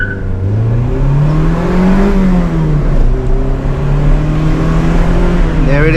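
A car launching from 2000 RPM and accelerating hard, with a loud, close engine drone that rises in pitch, dips briefly at a shift, then climbs again, steady throughout the clip.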